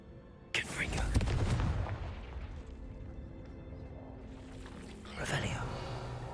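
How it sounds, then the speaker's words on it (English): A Confringo blasting spell cast in Hogwarts Legacy bursts with a sharp, close crack and a booming rumble that fades. A second similar burst comes a few seconds later, with a voice speaking around them. "Confringo."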